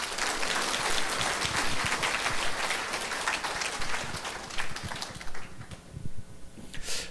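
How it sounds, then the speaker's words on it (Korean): Loud, dense applause from a large lecture audience welcoming a speaker, sustained for several seconds before thinning into scattered claps at the end. "김영세 대표님 나오실 때 여러분들이 열렬한 박수로 환영해 주시면 좋겠습니다"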